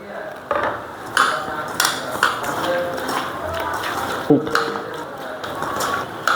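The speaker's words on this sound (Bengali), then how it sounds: "হলুদের গুঁড়ো, লবণ স্বাদ মতন। একটু তেল দিয়ে মাখিয়ে নেব।" Pieces of fish are mixed by hand with turmeric, salt and oil in a metal dish, giving repeated light clinks and scrapes of utensils against the vessel, close and moderately quiet, with soft background noise.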